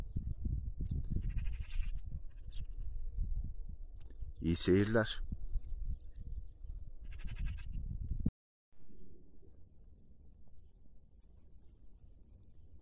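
A single loud lamb bleat stands out midway over a low rumbling background, with a short spoken phrase near the end.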